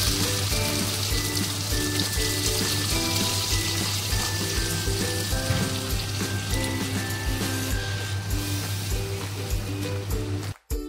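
Water poured into a hot pan of frying chana masala sets off a loud, dense, rain-like sizzle that holds steady for several seconds over a faint tonal drone, then cuts off abruptly.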